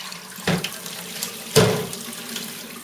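Tap water runs into a kitchen sink as a small child washes dishes with red sauce on them, a steady close splashing stream with two sharper clatters of dishes.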